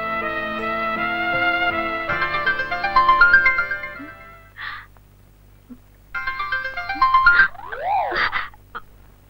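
A phone ringtone plays loud and close as a melodic electronic tune, stopping partway through and then starting again, with a few warbling chirps mixed in.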